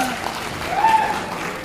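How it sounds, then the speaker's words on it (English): A college audience at a freshers' meet at Haflong Government College claps continuously in a dense, steady crowd applause, with a brief voice or whistle riding on top. "Please clap for yourselves."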